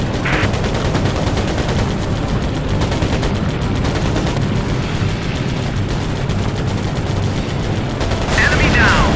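Dense, continuous aircraft gunfire from the video game Air Conflicts Pacific Carriers roars loudly throughout, a sustained rattling barrage with bursts flaring near the start and end.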